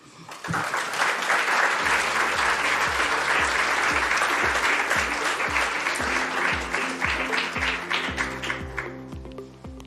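A conference audience at a tourism panel in Bled applauds after a speech, a broad, steady clapping that swells quickly and holds, while a rhythmic musical beat with low thumps joins partway through.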